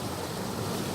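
Rushing creek water and waterfalls at Sam Creek on a Cape York mountain bike trip, a dense steady broadband roar filling the scene, close and continuous with no voices.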